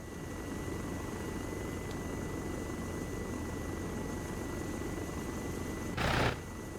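Helicopter flying in the Arma 3 military game, a steady low rotor and engine hum throughout, with a brief louder burst near the end.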